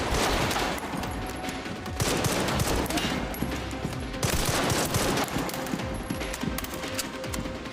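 Dense, continuous gunfire in Resident Evil Requiem, volleys of shots overlapping into a steady loud fusillade with brief surges and dips throughout.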